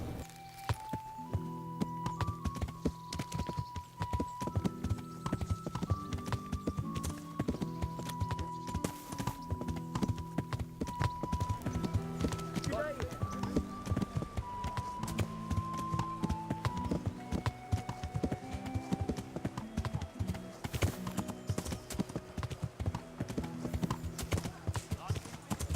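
Horse hooves clop in a steady walking rhythm in the medieval game Kingdom Come: Deliverance, close and continuous beneath a melodic music score.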